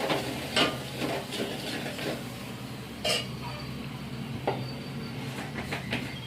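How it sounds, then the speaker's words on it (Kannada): Coriander being stirred into a curry in a home-kitchen pan: soft irregular scraping and stirring strokes with a few sharper clinks, steady low background hum, no speech. "ಕೊತ್ತಂಬರಿ ಹಾಕೊಂಡು ನೀಟಾಗಿ ಎಲ್ಲ ಮಿಕ್ಸ್ ಮಾಡ್ಕೊತೀನಿ"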